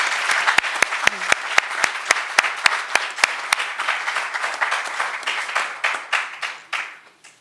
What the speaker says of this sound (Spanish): Les pido a todos un gran aplauso a la maestra